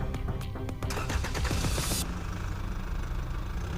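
A car engine cranks with rapid uneven clatter, then catches and settles into a continuous low, rumbling run at a moderate level, heard on its own without talk.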